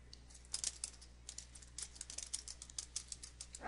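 Quiet, quick patter of keystrokes on a computer keyboard as a question is typed into a help page, heard in soft bursts up close with no talking.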